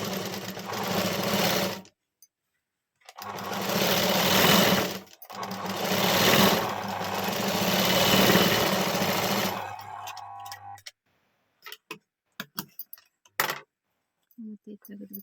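A sewing machine stitches a puff-sleeve blouse, running close and loud in three bursts separated by brief pauses, then giving way to scattered clicks and light handling noises.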